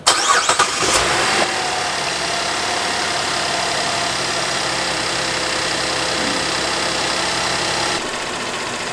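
A Buick Enclave or Traverse engine cranks briefly and catches, then settles into a steady, fairly loud idle that runs alone with no talk.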